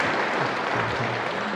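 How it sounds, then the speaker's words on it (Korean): A church congregation at a Sunday service warmly applauding to welcome an evangelist, a dense, steady clapping that fills the room for a moment. "한번 뜨거운 박수로 한번 좀 환영해 주세요"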